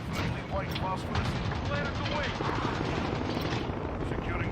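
Gunship fire in the video game Modern Warfare: dense, continuous heavy gunfire and booming impacts with a rotor-like rumble, loud and close, with muffled voices in the mix.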